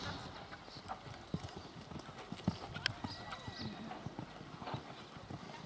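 Haflinger horses canter with rhythmic clip-clop hoofbeats in an arena at a regional Haflinger tournament, moderately distant, with a horse whinnying and a voice calling out commands in German.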